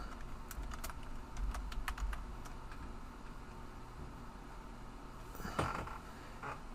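Someone types a password on a computer keyboard: quiet, scattered key clicks close by, then a brief louder cluster of taps near the end.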